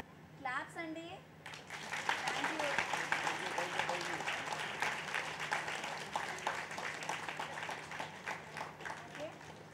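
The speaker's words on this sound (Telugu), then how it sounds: "క్లాప్స్ అండి." An audience at a meditation program session breaks into sustained applause, many hands clapping steadily and fairly loudly for several seconds after a brief voice at the start.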